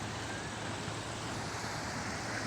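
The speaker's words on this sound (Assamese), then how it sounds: "ইয়াতে চাওক পানীৰ কি ধাৰ" Floodwater pours strongly across a grassland, a faint but steady rushing wash that holds even and unbroken throughout.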